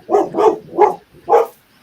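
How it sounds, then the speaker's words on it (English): A big dog barking, four deep loud barks close by, the first two in quick succession and the last two spaced further apart. "That sounds like a big dog."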